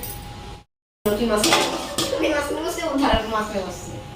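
A lid clanks onto a pot of chicken curry after a brief silence, followed by loud metallic knocks and scrapes up close, with someone talking over the clatter.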